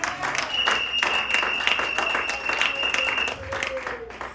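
A church congregation at a Sunday worship service in Sherbrooke, Canada applauds with sustained, dense clapping from many hands, steady across the whole stretch, with a voice speaking over the applause.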